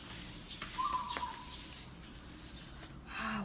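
A large bird that fell into a front yard and cannot fly gives a short whistled call over low outdoor background noise, followed by faint chirps.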